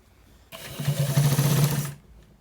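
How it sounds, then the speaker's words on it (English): Sewing machine stitching lace into a trouser waistband, a close rapid mechanical chatter running for about a second and a half before stopping. "So we are stitching it and making sure that the lace is inside"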